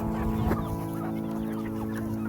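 Chickens cluck steadily and close by on a village farm, with soft peeping of incubator-hatched chicks mixed in, over a constant low hum.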